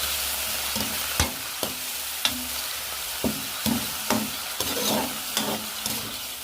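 Chicken sizzles in hot oil in a pan while cooking for Filipino pancit, a steady frying crackle broken by repeated sharp knocks and scrapes of a utensil stirring.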